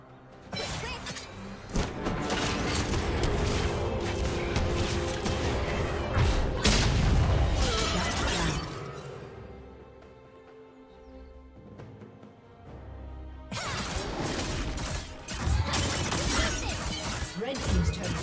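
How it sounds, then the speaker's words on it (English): A turret in League of Legends crumbles during a top-lane match, heard as a long stretch of heavy booms, crashes and impact thwacks amid game effects, easing off briefly before the loud clatter returns. "Red team's turret has been destroyed."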